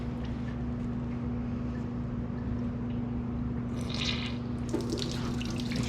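Diesel fuel trickles steadily from an opened injector line while the injectors of a 1963 IH Farmall 806 tractor are bled, under a low, even hum, with a brief splash near the end.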